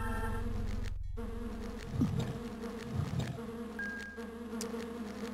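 Bees buzzing in the game Lands of Lore, a steady droning hum that swells and pulses, close and fairly loud, continuing without any voices.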